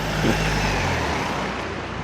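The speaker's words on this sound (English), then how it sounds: "Still lots of traffic." Steady road traffic near a train station, a continuous broadband rumble of passing cars at moderate distance with no clear individual events and no talk.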